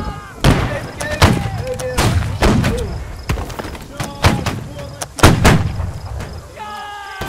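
Musket volley gunfire in the video game Holdfast: Nations At War: a string of loud, sharp booming shots, some close and some farther off, spread unevenly over several seconds, with voices talking underneath.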